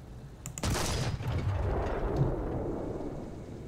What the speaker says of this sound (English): So let's get a feel for the sound once more of the gun.